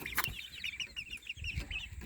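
Chickens cluck in short, soft, repeated bursts nearby, with a few louder squawks mixed in.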